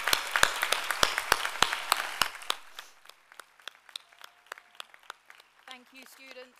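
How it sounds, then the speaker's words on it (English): Applause for the graduating class of 2023 at the Bangkok Prep graduation ceremony, dense loud clapping from a crowd that thins after about two seconds into scattered claps, with a brief voice near the end. "Please, let's give a huge round of applause to our fantastic class of 2023"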